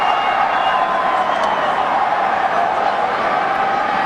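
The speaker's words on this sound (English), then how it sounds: "And the crowd is extremely disappointed" Baseball stadium crowd at a 2004 Twins ALDS playoff game, a steady, fairly loud murmur of many voices spread evenly throughout with no sharp cheers or claps.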